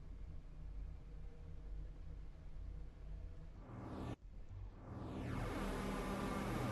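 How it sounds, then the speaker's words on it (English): Train emergency brakes applied in the Train Sim World 5 video game: a steady low rumble breaks off sharply, then a rising hiss of air swells and holds loud to the end. "casually testing out the emergency brakes."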